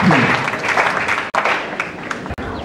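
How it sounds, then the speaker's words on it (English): An audience at a formal ceremony applauds after a speech, steady dense clapping filling the room for a few seconds without pause. "Give a rounding applause to VC for this very wonderful speech."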